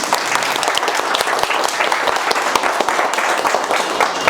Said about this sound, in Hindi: एक बार खड़े होकर जोरदार ताली बजाइए MD सर के लिए